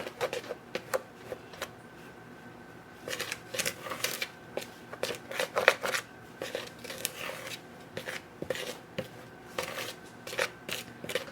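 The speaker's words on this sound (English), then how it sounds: "So then I'm just going to mix that all around and make sure everything is combined." Dry biscuit ingredients and parsley flakes being stirred together in a bowl, a string of quick scraping and tapping clicks in irregular bursts, close and fairly quiet with no talk.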